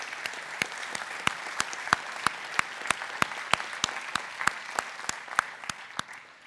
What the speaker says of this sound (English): You deserve a great big round of applause.